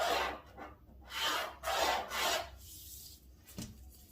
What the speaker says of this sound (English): So rule a straight line down from this point.